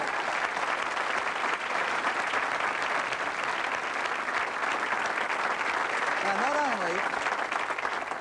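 A 1985 Australian television studio audience applauds steadily and loudly for several seconds, with a voice briefly heard through the clapping near the end.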